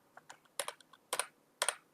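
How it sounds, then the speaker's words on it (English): Computer keyboard keys are pressed for the Alt-Shift-R shortcut, giving several crisp, close clicks in quick bursts, with a few softer taps before louder paired clacks, in an otherwise quiet room. "If you want to cycle through the metrics, then click on Alt-Shift and R on your keyboard."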